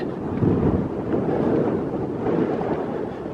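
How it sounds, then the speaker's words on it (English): Strong wind buffeting a microphone on Route 66 between Tucumcari, New Mexico, and Holbrook, a continuous low rumbling roar that swells and eases slightly, with no voices. "It's a bit windy"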